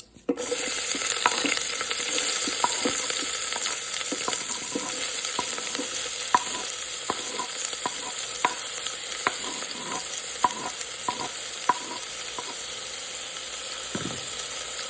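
Onion, green chili and curry leaves sautéing in a pot with popped mustard seeds, a steady bright sizzle running throughout with frequent scraping stirs and clicks of a utensil, close and alone without talk.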